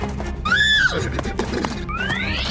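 A horse gives a loud, close whinny with a rising and falling pitch, followed by a second shorter upward neigh, over a faint background hum.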